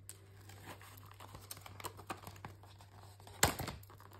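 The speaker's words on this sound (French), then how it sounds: "je retire ma protection de double face" Protective backing being peeled off double-sided tape during a paper scrapbook album craft, a soft crinkling, tearing rustle with one sharp crackle near the end, close and quiet with no talking.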